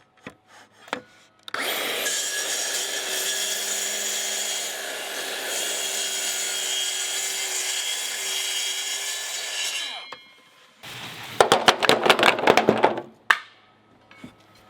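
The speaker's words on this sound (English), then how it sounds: "now all I have to do is set the depth on my track saw" A track saw rips through a deck board in one sustained, loud cut lasting about eight seconds, then stops. Bursts of clattering and knocking from handling the wood follow shortly after, with no talk.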